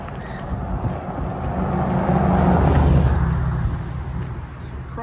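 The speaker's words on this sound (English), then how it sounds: "A lot of traffic on this road here." Steady road traffic rolling along highway 301 by Holt's Lake, a broad continuous rumble that swells to a near pass mid-clip and then eases, with some wind buffeting the microphone.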